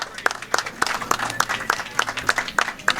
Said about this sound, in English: there's the applause for Team Knapp